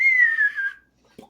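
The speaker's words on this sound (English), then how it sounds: "What's that whistling sound?" A single descending whistle like incoming artillery fire glides down in pitch for under a second, then cuts off, followed by a brief faint thump.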